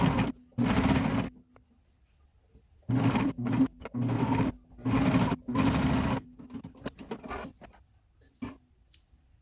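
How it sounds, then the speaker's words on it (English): A cover stitch machine runs stitches along the leg bindings of a hoodie bodysuit in about five short, close whirring bursts, separated by quiet pauses with light handling noises. "we're at my cover stitch machine now, and we are going to just run a stitch right along the bindings"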